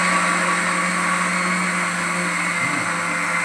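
A mixer grinder crushes dhokla ingredients, its loud motor whirring in one continuous, unbroken drone from start to finish.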